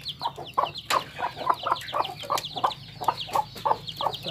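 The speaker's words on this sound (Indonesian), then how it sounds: "Ini anaknya anak ayam petelur semua ini" Chicks of laying hens crossed with village chickens peep in quick repeated bursts close by, a rapid regular chirping with no talk over it.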